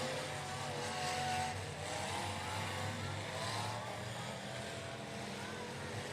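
Demolition derby cars at the Yolo County Fair main event rumble and rev together in a continuous, distant engine roar with a low droning mix and no distinct crash impacts standing out.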